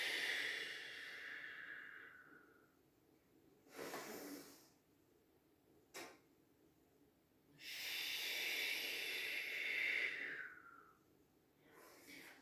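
A slow, deliberate exhale through the mouth during a Pilates back exercise, breathy hiss rising and fading, repeated in two long outward breaths separated by a short inhale and a soft catch, close and quiet with no talking.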